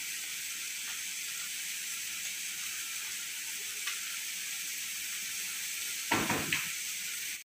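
Cumin and green chili paste frying steadily in a pan for a South Indian rasam, a continuous close hiss of sizzling with a brief clatter of stirring near the end.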